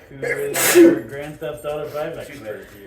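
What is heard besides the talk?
sneeze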